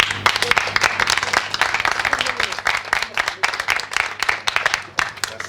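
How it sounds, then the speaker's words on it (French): Loud, dense audience applause at a diocesan training closing ceremony. The clapping is vigorous and continuous for several seconds, with a faint murmur of voices underneath. "Et l'applaudissement pour M. Jopoli."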